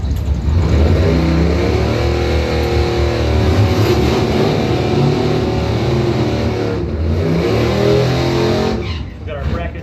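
Mopar drag race cars rev loudly and continuously during bracket time trials at a drag strip, engine roar filling the clip with rising and falling throttle, while a commentator talks over the noise throughout.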